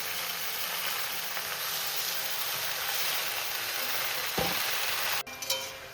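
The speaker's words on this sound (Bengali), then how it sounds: "এবার আমি সবজির সাথে শাকটাকে ভালো করে মিশিয়ে নেবো" Spinach tossed with vegetables in a frying pan, a winter spinach dish with lentil dumplings: continuous even sizzle and hiss with faint stirring, a brief knock and a clatter near the end, no speech.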